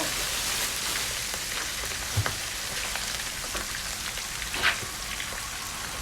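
Steady sizzling of fish and squid frying in coconut oil in a pan over a strong flame, a dense continuous crackle with a couple of brief louder pops.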